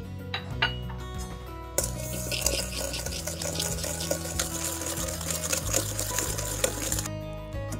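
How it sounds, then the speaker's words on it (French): Egg yolks whisked with brown sugar in a bowl for tiramisu, a steady close clatter of whisk against the bowl running throughout over a faint low hum. "J'ajoute au jaune 80 g de cassonade et je mélange au fouet jusqu'à ce que le mélange blanchisse."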